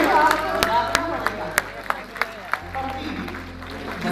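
Sparse, scattered claps from an audience at a mushaira poetry gathering in Dubai, a handful of sharp individual hand claps spread across a steady murmuring room hum rather than full applause.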